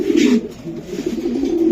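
A racing pigeon coos close by in low, throaty, rolling phrases, a short burst followed by a longer pulsing coo.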